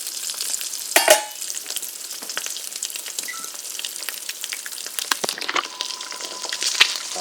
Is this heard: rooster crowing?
no